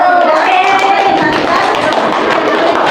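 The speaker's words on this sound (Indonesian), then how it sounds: "Tepuk tangan untuk kelompok 1." A classroom of students breaks into applause for a presenting group, dense steady clapping with some voices mixed in, filling the room for a few seconds.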